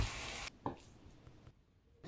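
Chopped onion and meat fry lightly in a pan for Korean steamed buns: a soft sizzle at first, then a quieter stretch with a brief clink of stirring. The whole clip is faint.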